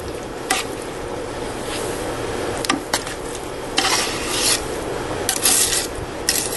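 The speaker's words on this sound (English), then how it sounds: "Jim's just stirring it all in." Sugar being stirred into a pot of homemade chunky applesauce, a steady wet rasping scrape with a few sharper clicks and knocks of the spoon against the pot, close and continuous.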